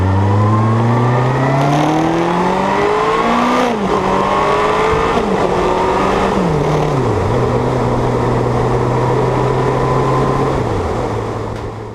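A Kawasaki Concours 14 motorcycle with a modified exhaust revs up through rising gears, then settles into a loud, steady drone with brief dips as it shifts.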